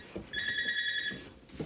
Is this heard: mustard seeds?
no